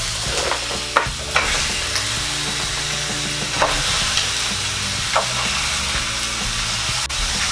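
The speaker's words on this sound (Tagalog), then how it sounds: "Ngayon po ay pwede na nating ilagay itong ating crab." Crab sizzles loudly in a hot pan for a crab halang-halang dish, a constant close frying hiss broken by several clattering stirs and knocks with no talking.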